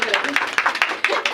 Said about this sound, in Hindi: तालियां तो बजा दो सब।